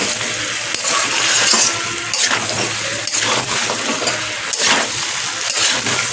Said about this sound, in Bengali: গাজর আলু পেঁপে দিয়ে জল দেবো খুলি